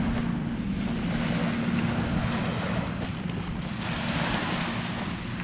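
Wind-driven waves lap steadily along a lake shore with pines nearby, a continuous close wash of water mixed with gusty wind rumble and microphone buffeting, no voices.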